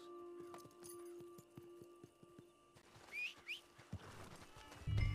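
Horse hooves in Red Dead Redemption 2 clip-clop in a quick, even rhythm on a hard surface, then give way to a couple of whistles and a short thud near the end.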